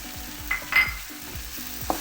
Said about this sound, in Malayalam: ഇതിൻ്റെ ആ പച്ചമണം മാറുന്നവരെ നമുക്കൊന്ന് വഴറ്റി കൊടുക്കാം